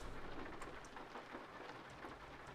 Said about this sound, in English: you hear the rain pattering on it while the engine hums in the background with the road scraping underneath